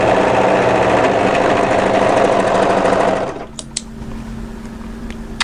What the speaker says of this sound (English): overlock across that short edge at the top